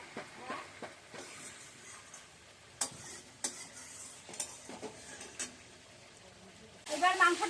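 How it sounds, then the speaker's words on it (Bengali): Chicken meat frying in oil for a red chicken curry, a soft sizzle under clinks and stirring clatter, ending in a louder burst of spitting; faint voices in the background. "মাংসটা পুরো কষেনি তবে কষানো হয়ে এসছে আস্তে আস্তে করে তেল ছেড়ে দিচ্ছে"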